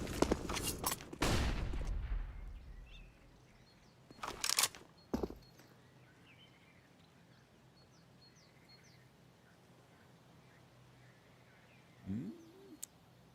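Counter-Strike gunfire in a pro match between G2 and NAVI: a burst of sharp shots up front, a few more cracks a couple of seconds later, then a long quiet stretch with faint ambient chirps and one low thud near the end.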